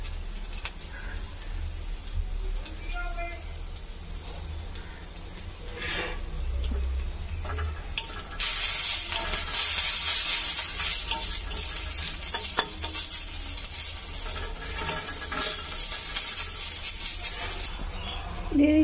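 Turmeric powder stirred and frying in a hot pan, a steady sizzle with scraping strokes that swells louder and brighter partway through, with no talking over it.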